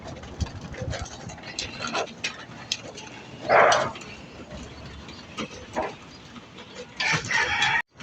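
Chickens cluck and squawk intermittently nearby, with scattered pecking and bird calls over a quiet outdoor background.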